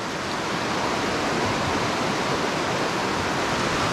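Flash flood water roars through Paria Canyon in a loud, dense, unbroken rush that sounds close and overwhelming, with no voices.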